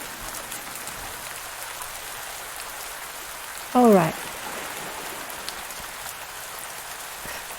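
Steady rain falls throughout in the farming video game Pumpkin Days, a constant hiss of drops on surfaces, with a single short voice cutting in briefly near the middle.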